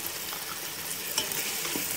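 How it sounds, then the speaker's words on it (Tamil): Sliced onions sauté with ginger garlic paste in a pan while ghee rice is being made, giving a soft continuous sizzle with a few faint stirring scrapes, close but fairly quiet. "இப்போ பாருங்கள், ஓரளவுக்கு நல்லா வந்து வெங்காயம் வந்து வதங்கிடுச்சு"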